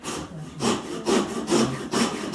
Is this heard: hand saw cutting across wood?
yes